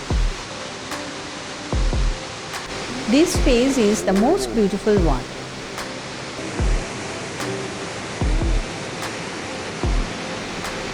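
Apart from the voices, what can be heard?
waterfall in Shillong, water rolling down stone steps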